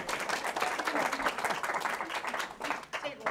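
A small audience at a public library interfaith event claps, a fairly faint, steady patter of hands that thins out toward the end, with voices mixed in.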